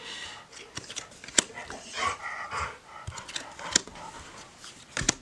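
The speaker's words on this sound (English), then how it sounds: "The dogs insist on being in here, and then they get restless and they start wandering around and panting" Dogs wander restlessly around a room, panting softly with quick breaths, their paws and collars making sharp clicks and jingles now and then. Close but quiet, with no talking.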